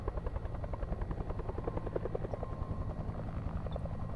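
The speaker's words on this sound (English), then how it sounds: "Sounds like a chopper." Helicopter in the video game Alpha Polaris flying close by, a loud steady rotor thumping with a rapid even beat that carries on unbroken, with no voices over it.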